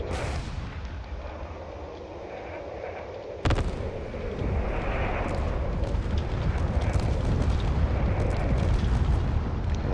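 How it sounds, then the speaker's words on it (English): Ships in a space battle video game fire long-range weapons as a dense barrage of booming blasts and explosions, with a sharp louder burst a few seconds in and a sustained, thick roar of gunfire afterward. "all the other ships out here are just firing whatever they can with their long-range weapons"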